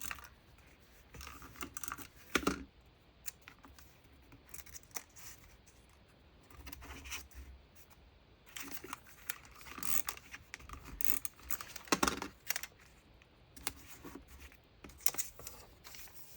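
Scissors work through paper journal ephemera in quiet, close snips and scattered rustles, coming in irregular bursts over a soft background hiss, with no talking.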